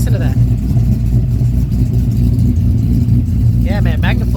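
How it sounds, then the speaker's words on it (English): A 2012 Mustang GT with a Magnaflow exhaust and Cobra Jet intake rumbles low and steady at close range, with a brief chirpy sound near the end; a voice talks over it. "Magnaflow makes some badass sounding exhaust."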